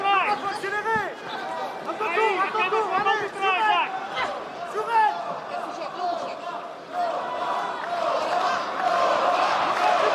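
A UFC arena crowd at a women's bout roars and jeers in a dense, steady wash of shouting voices, swelling louder toward the end with no break.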